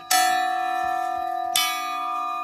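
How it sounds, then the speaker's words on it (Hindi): A school bell made from a piece of train rail is struck twice, each blow ringing out loud and metallic with a long sustained hum that lingers between the hits. "ये रही हमारी वो घंटी। और पता कैसे बजती थी ये?"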